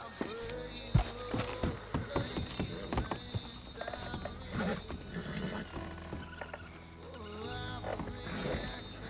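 Hooves clop in an uneven series of sharp knocks, close by, amid creaks and faint voices in the background.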